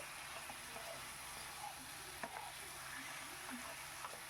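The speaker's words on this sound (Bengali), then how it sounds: "সবজিটা অ্যাড করে ভালো করে একটু নাড়ি চাড়িয়ে নিতে হবে" Drumstick vegetables frying in spiced oil hiss with a faint, steady sizzle while a utensil scrapes and taps lightly now and then, quiet and close, no voices.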